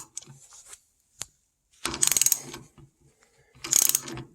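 A hand turning tool screws the rear brake caliper piston back in on a Mustang Cobra, giving two bursts of rapid ratcheting clicks, close, with scattered metal taps between.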